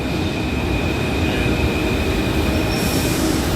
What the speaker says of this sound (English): Alright, here's the train coming.